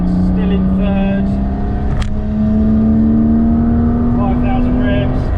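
Porsche Boxster 987 fitted with a modified Carnewal exhaust accelerates hard in third gear, its engine note rising steadily and loud from up close inside the cabin, with a brief thump partway through.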